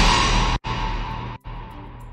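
A heavily reverberated synth sound in a dubstep production forms a dense, washed-out wall of tone, broken by two abrupt short cutouts in a rhythmic, gated pattern.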